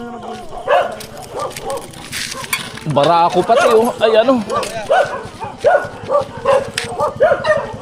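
A dog barks repeatedly at close range in an outdoor gathering, the sharp barks scattered among people talking loudly over one another.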